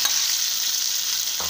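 Boiled potatoes fry in a pan with cumin and asafoetida, giving a steady, loud sizzling hiss that runs without a break, with a brief stir near the end.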